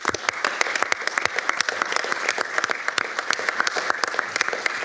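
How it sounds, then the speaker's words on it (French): An audience at a public procurement forum claps steadily in a dense, even burst of applause, moderately loud with no talk over it. "Ce premier applaudissement,"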